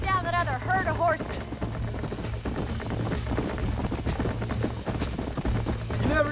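Horse hooves galloping in the video game Red Dead Redemption, a steady clip-clop running throughout under a low engine-like drone, with game dialogue and a brief whinny near the start.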